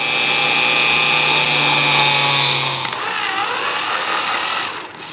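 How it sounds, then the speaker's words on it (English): A small bit drills a hole during a Hasbro Hero Series X-Wing Fighter conversion, giving a loud, close, steady motor whine that shifts pitch partway through and then winds down at the end. "I'm going to start off with a small drill bit first, and then build up to a larger one"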